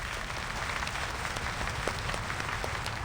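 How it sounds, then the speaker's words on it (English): An audience in Vienna applauds an opera singer with dense, continuous clapping filling the hall, loud and even throughout. "Amidst applause, Henrik's bows"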